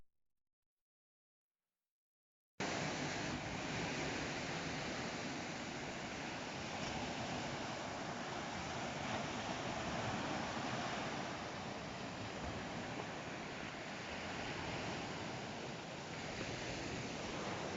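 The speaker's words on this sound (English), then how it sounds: "here we are, Avithos Beach" Surf rolling onto Avithos Beach, a steady continuous wash of breaking waves with some wind rumble, loud and unbroken after a brief silent start.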